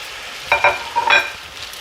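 Leftover pasta fries in a pan with a little olive oil, giving a steady soft sizzle broken by a few sharper crackles and spits near the middle.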